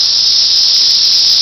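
Cicadas buzzing in Tennessee, a loud, close, continuous high-pitched drone that holds perfectly steady throughout with no other sounds.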